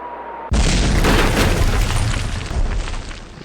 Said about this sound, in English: I think everyone realized by the time they started firing their cannons at us